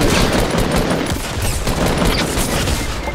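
Rapid automatic gunfire bursts continuously in a video game, a loud, dense stream of shots with no pause and no talking.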